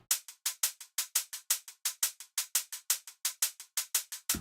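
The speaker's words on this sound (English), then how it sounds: "So I just made some hats in addictive drums that sound like this." Programmed hi-hats from Addictive Drums tick in a steady, even pattern of bright, crisp hits, alone and fairly quiet, with a slightly looser open-hat tail on each stroke.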